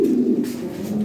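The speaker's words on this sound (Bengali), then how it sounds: "এটা খুব ভালো কবুতর" A racer pigeon of Python bloodline coos close by, a soft, low, throaty rolling call sustained across the moment with a slight rise and dip, heard alone without talk.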